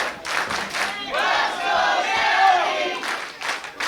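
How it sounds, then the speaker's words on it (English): A wrestling match crowd cheers and yells in loud, swelling bursts, rising to a sustained roar in the middle before breaking into scattered shouts again. "You hear that cheering for you?"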